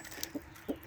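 A small red chicken clucking for attention, three short, quiet clucks in quick succession close by, with no talk.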